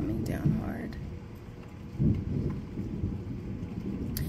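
Heavy rain pours steadily with low rumbling thunder swelling twice, a dense, constant wash heard up close with no voices.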